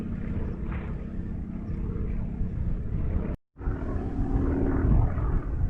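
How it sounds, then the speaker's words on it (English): A World War II aircraft flies overhead above the moors near Howden Edge, a low continuous distant engine drone mixed with wind buffeting throughout, broken by a brief dropout. "I think that's a World War II aircraft up there having a flyover"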